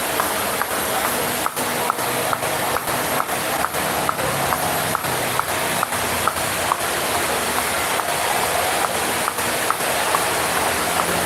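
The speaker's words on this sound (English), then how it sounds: "And now it's raining" Rain falls steadily outdoors as a dense, even hiss, with regular rhythmic taps from rope skipping cutting through it throughout.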